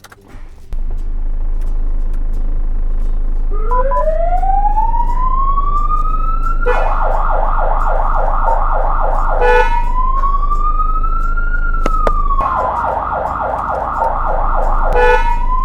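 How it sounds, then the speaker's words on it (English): Loud fire truck siren wailing up and down, alternating with rapid yelping bursts, close by over a low engine rumble. "I always love hearing the sirens and seeing the big fire truck coming down the street"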